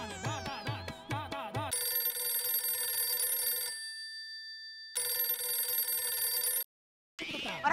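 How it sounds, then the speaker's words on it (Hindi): A phone rings out in a TV comedy scene: a busy melodic ringtone at first, then two long electronic ringing bursts with a quiet gap between, then a cut and more tones. "रिंग बज रहा है।"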